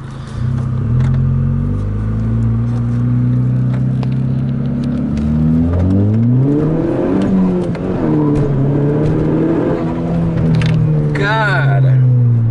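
A Volkswagen GTI engine revs loudly up close, its pitch climbing and falling through gear changes in a steady whirring drone. Someone speaks briefly over it.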